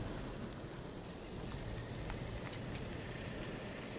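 A rebuilt, previously wrecked 2023 VW Taigo idles while warming up: a faint, steady low engine hum with a constant rumble and no voices.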